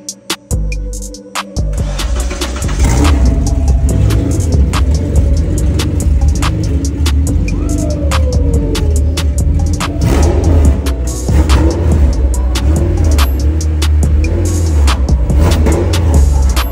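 K-swapped Subaru FRS engine cranking and firing unevenly with crazy offset, a few quiet clicks giving way to a loud continuous rough running rumble punctuated by sharp repeated pops and crackles.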